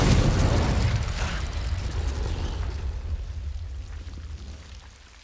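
A booming burst from the Confringo explosive spell in the video game Hogwarts Legacy opens loud and fades into a rumbling, crackling decay over several seconds.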